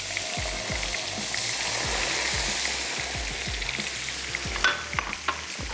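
Chicken stock hits cooking flour in a hot pan and sizzles loudly and continuously, with rhythmic stirring scrapes and a few sharp spatters near the end, and no talking.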